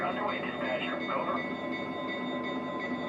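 A Lionel Burlington Zephyr model train runs along its track with a steady mechanical rumble and whir, a faint high whine over it and speech-like radio chatter mixed in.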